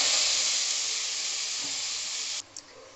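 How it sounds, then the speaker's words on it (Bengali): Pea greens hit hot oil left from frying potatoes, a loud, steady hiss of sizzling steam that cuts off abruptly near the end, no talking. "আমি ওই আলু ভাজার তেলের মধ্যে আমি এবারে শাকটা দিয়ে দেবো, মটর শাকটা।"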